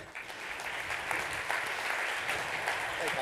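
An audience at a leadership summit bursts into brief, steady applause for a volunteer coming onstage, a dense, mid-level clapping that holds without a break.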